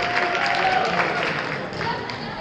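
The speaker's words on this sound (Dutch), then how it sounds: "applaus" Applause for latecomers at an indoor youth football tournament for under-12 players, a steady broad wash of clapping that continues throughout with crowd noise and voices mixed in.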